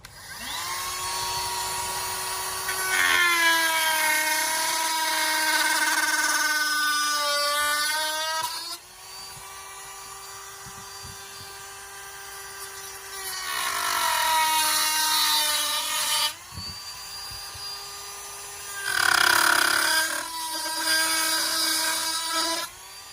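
Power tool cutting out a part for a Sig P320 pistol, a loud high-pitched whine in long sustained passes that dip and rise in pitch between cuts, close and without speech.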